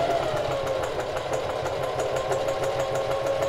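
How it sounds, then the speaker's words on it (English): A sewing machine runs continuously at steady speed, a close, loud mechanical whirring hum with rapid rhythmic needle clatter throughout. "sewing machines are really scary sometimes"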